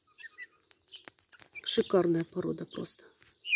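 Dark Brahma chicks give soft, scattered chirps and peeps, first alone and then under a person speaking at length, with a louder chirp at the end.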